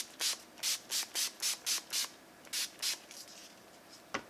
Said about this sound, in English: I'm going to be taking my NYX Matte Finish Setting Spray, and we're going to be setting our face.